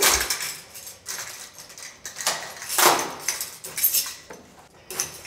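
A door being unlocked and opened in a museum collection depot, with a series of clinking and clattering metallic bursts from the lock and handle, close and fairly loud, spread across a few seconds.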